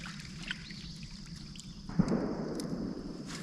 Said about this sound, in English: Somebody just shot something.